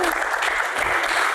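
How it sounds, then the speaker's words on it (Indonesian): A short burst of steady applause, dense clapping filling the moment at a fairly loud level with no gaps. "Tepuk tangan, luar biasa."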